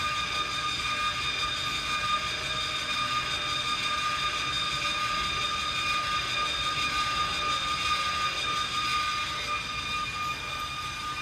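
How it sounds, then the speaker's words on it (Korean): The electric motor on the rear outrigger of a caravan's C Systems HPC hydraulic auto-leveling system runs with a steady, even whine and hum. It drones on alone without change, and no one speaks. "뒤쪽 아웃트리거에 설치된 전기 모터로 어, 단단하게 바닥에 지탱해 주게 됩니다"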